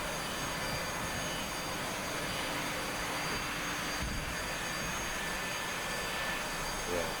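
Jet aircraft engine in the DCS World flight simulator during takeoff, a steady broadband roar holding at constant loudness throughout, fairly close and unbroken with no clear talk over it.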